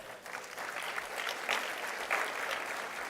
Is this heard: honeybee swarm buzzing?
no